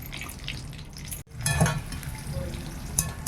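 Food sizzling and being stirred in a pan during fried rice preparation in a village kitchen, a steady frying hiss with scraping stirs and a brief cut partway through, close and moderately loud.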